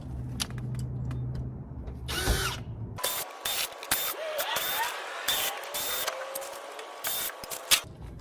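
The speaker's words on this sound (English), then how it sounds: "I'm going to take that panel off and see if this is the problem" Panel being pried and unscrewed to reach a leaking Vacuflush toilet, with a burst of power drill whirring, sharp plastic creaks, scrapes and clicks close by, and no talk.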